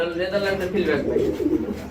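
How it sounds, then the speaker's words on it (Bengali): A pair of Netherlands fill-back pigeons coo close by in soft, throaty, rolling murmurs that repeat in overlapping waves across the short stretch. "এটা হচ্ছে নেদারল্যান্ডের ফিল ব্যাক কবুতরের জোড়া"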